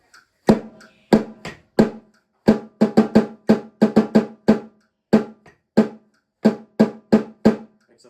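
Snare drum played alone, a sparse etude rhythm of crisp single strokes and short groupings with irregular gaps, close and dry, no rolls or ornaments.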